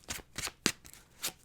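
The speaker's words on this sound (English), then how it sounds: "That was a weird shuffle." A deck of tarot cards is shuffled by hand in several quick riffling bursts, close and crisp, with short pauses between them and no voices.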